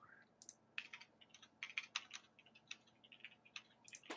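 Keys clack on a computer keyboard in irregular bursts of quick taps with short pauses, fairly close but quiet, during a team video-game coaching session.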